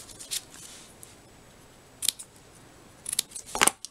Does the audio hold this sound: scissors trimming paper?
yes